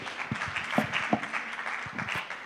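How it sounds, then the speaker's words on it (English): Brief audience applause rings out for a speaker at a radio-hosted oratory contest, a steady patter of claps at moderate volume over a hall's background murmur. "Can you give a round of applause again for him?"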